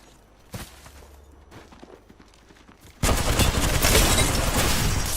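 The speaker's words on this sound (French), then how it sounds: "On me tire dessus." Gunfire in the battle game Apex Legends: a few faint thuds and footstep-like taps, then a loud, dense burst of shooting that starts suddenly and runs steadily to the end.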